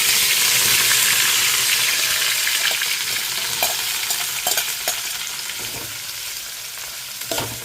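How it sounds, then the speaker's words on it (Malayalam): Sliced onion, green chili and curry leaves hit hot oil for a Kerala-style chicken curry, giving a loud, dense sizzle that slowly settles while a spoon knocks and stirs in the pan several times. "ഈ എണ്ണ ചൂടാവുമ്പോൾ ഇതിലോട്ട് സവാള പച്ചമുളക് കറിവേപ്പില ഇതെല്ലാം നമ്മൾ മുമ്പ് അരിഞ്ഞു വെച്ചിട്ടുണ്ടായിരുന്നു"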